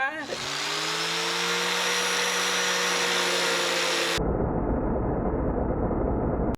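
An angle grinder whines loud and close while grinding, then shifts abruptly into a coarser, rougher roar of harsh grinding noise that runs on unbroken.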